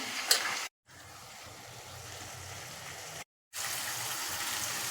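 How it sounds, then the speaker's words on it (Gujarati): Gram flour and spice water pours into a pan in a steady liquid rush, with two brief silent gaps. "આપણે જે પાણી બનાવ્યું છે ચણાના લોટનું મસાલાનું એ બધું મિક્સ એડ કરી દઈએ"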